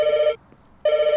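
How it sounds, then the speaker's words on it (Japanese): A telephone rings in the video game Pets Hotel with a bright, steady electronic trill in two bursts separated by a short pause, loud and close with no voices. "6つ電話置いたら6回線同時に鳴ってるんだけど"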